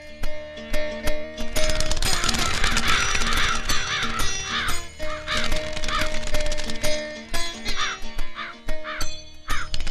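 Crows caw repeatedly in harsh, clustered bursts, loud and close, over continuous background music in a Telugu comedy film scene.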